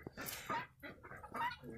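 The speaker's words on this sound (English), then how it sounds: "Chickens hang out up there. They hang out up there. And they lay in here." Chickens cluck in short repeated bursts inside a barn-style chicken coop, close by and fairly faint overall.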